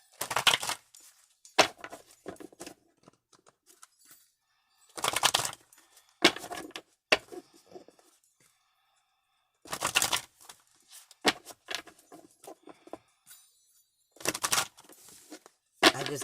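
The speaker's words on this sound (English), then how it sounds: "I just keep shuffling until I feel like I'm being told it's time to stop." Tarot cards being shuffled, bursts of crisp riffling and slapping clusters separated by quiet gaps, close and fairly loud, with no talking.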